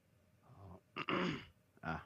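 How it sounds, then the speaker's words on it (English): A person clears their throat in a few short, rough bursts, close and fairly quiet, with a strained effortful quality. "Almost died over here trying to clear my throat."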